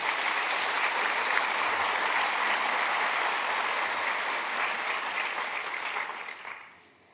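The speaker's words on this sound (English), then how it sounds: "let's give them a big round of applause again" Full audience applause for award winners at an excellence awards event, loud and steady for most of its length before tapering off and fading out near the end.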